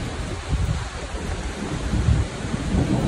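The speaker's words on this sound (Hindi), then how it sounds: "बहुत तेज़ बारिश हो रही है यार" Heavy rain pours in a village, a dense continuous roar mixed with wind buffeting the microphone, steady and loud with no speech.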